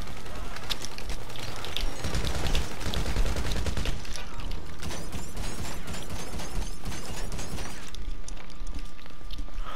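Dense, continuous gunfire from GTA 5 fills the scene with overlapping bursts and mechanical clatter, loud and close throughout, with shots stacking into a steady barrage.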